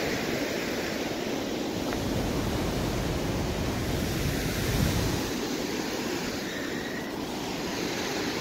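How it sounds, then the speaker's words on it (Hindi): Heavy, constant roar of Niagara Falls water rushing and crashing, a dense broadband wash that fills the whole clip without letup, close and loud with some wind buffeting. "कितनी ताकत से पानी गिर रहा है, बह रहा है"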